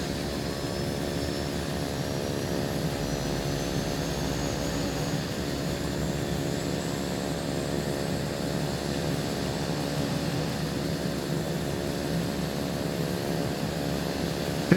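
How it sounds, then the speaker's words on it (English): Piston engines of a Black Square Piston Duke twin-engine aircraft in a flight simulator game, a steady loud droning hum with layered harmonic buzz, continuous and unchanging, close and alone without talk. "Turn down the plane sound a bit and close the window."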